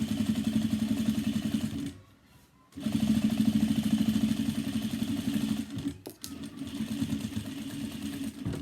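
A sewing machine top stitches a seam an eighth of an inch from the edge while sewing a cross body bag panel, a steady close whirring run with a brief pause near the middle and a short break later.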